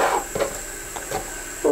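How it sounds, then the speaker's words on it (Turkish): Several sharp knife chops through red peppers against a cutting board, spaced irregularly, close and moderately loud over a steady background hum. "Kırmızı biberlerimi doğrayacağım."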